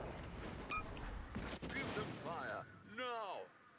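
Naval guns boom in a World of Warships: Legends battle against enemy battleships and a destroyer, a dense run of blasts under steady game noise, with a voice rising over the final second.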